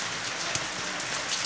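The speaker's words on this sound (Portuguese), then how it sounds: "eu vou ter que parar de filmar, tá chovendo forte" Heavy rain pours steadily outdoors among potted Catasetum orchids, a dense, loud, unbroken hiss with faint individual drops.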